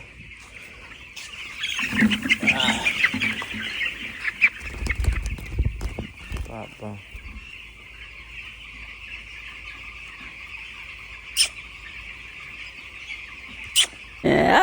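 Eleven-day-old pet chicks chirp in a continuous high twittering, with louder bursts and rustling early on and a brief spoken word.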